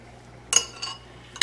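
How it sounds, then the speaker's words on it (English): Spoon and fork scraping dumpling dough off into a pot, three brief metallic clinks and taps spaced apart, crisp and close over quiet background. "We're just going to drop these via tablespoon all through here."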